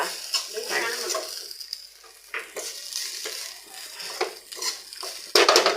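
Chicken sukka fries in a pan while a utensil stirs and scrapes it, producing intermittent metallic clinks and a soft sizzle, close by, ending in a louder burst of frying.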